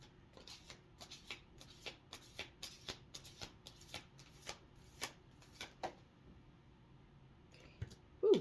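Moonology oracle cards shuffled by hand: a steady run of crisp riffling flicks that fades into quiet, then a brief rustle at the end.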